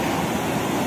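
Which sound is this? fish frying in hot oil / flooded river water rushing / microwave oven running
flooded river water rushing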